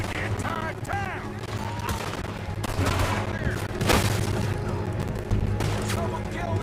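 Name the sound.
gunfire in a shootout, from a video game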